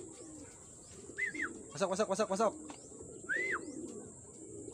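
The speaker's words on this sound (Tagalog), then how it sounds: "Doon dumaan mga kalapatids." Pigeons coo in soft, rolling bursts, with a cluster of throaty pulses in the middle and a couple of brief upward chirps, heard close over a faint background hiss while a person speaks briefly.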